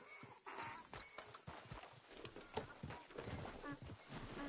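Horse hooves clip-clop steadily in Red Dead Redemption 2, joined by a whinny from the animal, all fairly quiet and close with no talking over it.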